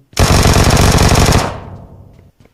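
A loud, rapid burst of automatic gunfire in PUBG Mobile rattles for over a second, then trails off into a fading echo with a couple of faint clicks.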